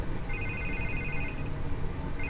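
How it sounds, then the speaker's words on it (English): A telephone rings steadily with a high electronic trill, repeating under a continuous background hum and fairly close. "I can't get the phone to stop ringing."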